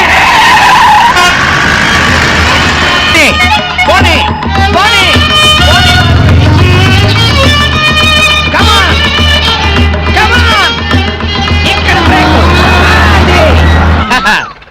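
Tires squeal and screech repeatedly over a rumbling engine as a car's brakes fail, with loud, continuous vehicle noise and voices mixed in throughout.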